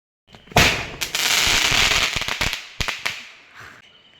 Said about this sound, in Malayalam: ഈ പടക്കം ഉണ്ടല്ലോ രാവിലെ തൊട്ട് പൊട്ടിക്കുന്ന കേട്ടോ